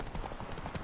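Roach, the horse in The Witcher 3, walking with soft rhythmic clip-clop hoofbeats, a brief and fairly quiet stretch of steady steps.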